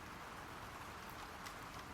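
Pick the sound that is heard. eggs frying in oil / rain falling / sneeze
rain falling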